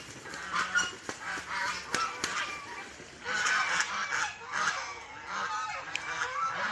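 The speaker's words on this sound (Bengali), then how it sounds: "আমার 32 পিস হাঁসের মধ্যে 22 পিস হচ্ছে মেয়ে হাঁস আর হচ্ছে 10 পিস ছেলে হাঁস।" A farm flock of ducks, thirty-two birds, gives repeated loud honking quacks that overlap in an irregular chorus, close by and continuous.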